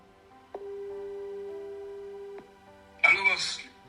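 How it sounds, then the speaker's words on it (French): A phone call being placed: a single long, steady ringing tone sounds for about two seconds, then, after a short gap, a voice comes on the line. "Je vais appeler Mkido parce que là, c'est un peu allé fort."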